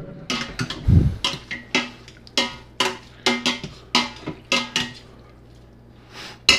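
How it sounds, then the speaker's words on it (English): A metal spoon stirs cooked taco meat with tomatoes in an Instant Pot, giving sharp clanks and scrapes against the steel insert in an irregular rhythm, close and clear with no talk. "Beautifully cooked meat with some maters in there. We're gonna give it a stir."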